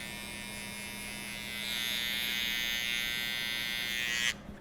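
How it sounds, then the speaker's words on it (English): Electric hair trimmer buzzing steadily at close range while tidying the lower part of a skin fade haircut, a constant hum that rises slightly midway and cuts off near the end. "I'm just going to take this part down with my trimmer"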